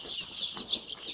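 Chickens in coops, just vaccinated against fowl pox, cluck and chirp in a short, busy burst of overlapping calls at moderate distance.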